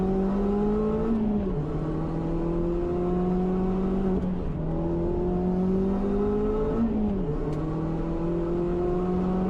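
A Mazda Miata engine accelerates hard and steadily, its loud droning note climbing through gears with a few quick dips at the shifts, close and continuous.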